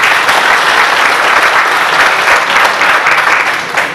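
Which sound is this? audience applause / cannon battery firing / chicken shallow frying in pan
audience applause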